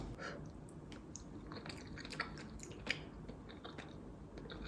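Close, quiet chewing of a bite of mala cream pasta, with soft squishy mouth sounds and a few sharper bites over a low background, no talking.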